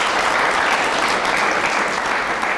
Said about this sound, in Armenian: խնդրում եմ ծափահարեք իմ ուսանողները